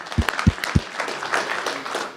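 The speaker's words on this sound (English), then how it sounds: "clap for that" Audience applause at an Opportunity Zone conference, a short burst of clapping with a few sharp, loud claps up front, then a thinner patter that fades over about two seconds.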